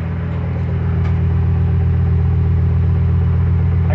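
A freshly rebuilt Ford 5.4L 3V truck engine runs steadily just after its first start, a loud, close, even idle with a constant low rumble and no voices over it.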